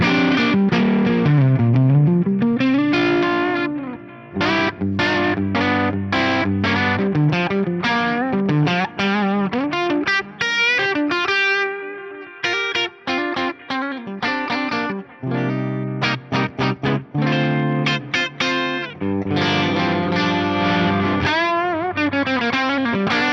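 Electric guitar through a Fractal Audio FM3 amp modeler plays a continuous melodic line with chords, lightly overdriven at the edge of breakup, trailed by echoing delay repeats and a roomy reverb wash.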